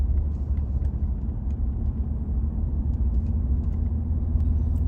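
Steady, continuous road noise from a car cruising at 50 mph on a smooth road: a dense low rumble of engine and tyres that holds even and loud for the whole stretch, with no voices.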